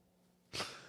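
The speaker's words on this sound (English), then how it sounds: "Hold on, I'm gonna sneeze again" A single sudden sneeze bursts out loudly after a quiet pause during a sports-talk podcast, a short breathy explosion that trails off.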